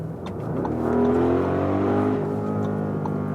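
An Audi RSQ8 accelerates hard while overtaking, its engine note rising steadily in a loud, sustained surge heard from inside the car, with no talking.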